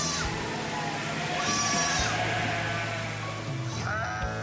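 Sheep and goats bleat repeatedly at close to middle distance on the Mongolian steppe, several overlapping calls rising and falling over a low steady background.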